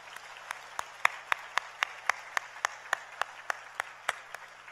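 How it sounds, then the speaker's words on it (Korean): At a church faith retreat gathering, an audience claps for the children in a quiet, steady rhythmic beat of evenly spaced single claps, faint and somewhat distant. "우리 한번 아이들을 위해서 크게 한번 박수 한번 해요"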